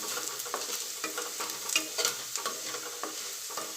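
Potatoes for aloo chaat frying in oil in a kadai, with a close, steady sizzle broken by scraping and stirring strokes at irregular intervals.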